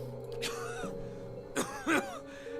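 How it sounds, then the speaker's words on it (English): A man in the video game Pillars of Eternity coughs and clears his throat a few times, rough and close, over a low steady hum. "He shudders with a cough."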